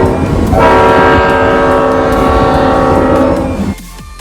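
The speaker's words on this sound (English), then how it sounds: "Today we got to ride the Great Smoky Mountain Railroad." A Great Smoky Mountain Railroad train sounds its horn in a long, loud, sustained chord lasting about three seconds over the rumble of the rolling cars, then the horn cuts off.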